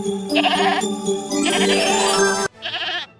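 A goat bleats loudly and close up in a folk-tale setting, giving two long quavering cries and then a shorter third one after a brief break, with no talking.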